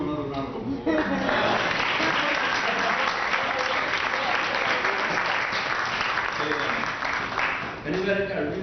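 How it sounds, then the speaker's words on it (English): Audience applause at a poetry reading at NYU, a loud, sustained wash of clapping from a sizable crowd lasting several seconds, with voices faintly audible at the start and end. "Let's give him another round of applause."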